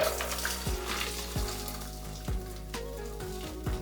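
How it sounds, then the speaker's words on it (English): A shaken margarita is double strained into a glass, the liquid trickling and splashing steadily through the strainer. Several short thumps or taps of the shaker and strainer sound close by, with no talking. "Now we're going to double strain into our glass,"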